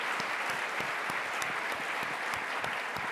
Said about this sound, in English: just one more round of applause for Governor Cox.